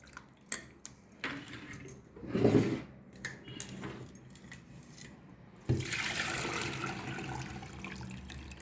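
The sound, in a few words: water poured to wash homemade butter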